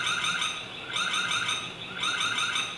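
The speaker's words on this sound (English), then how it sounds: "and it also have an alarm that sounds like this." Security alarm of a Zosi C308AH camera, sounding a loud, repeating electronic chirping siren pattern that cycles roughly once a second with no voices.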